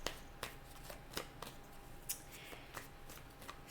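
Tarot cards shuffled by hand in quick, soft riffling bursts spread through the stretch, some strokes sharper than others, fairly quiet with no voices.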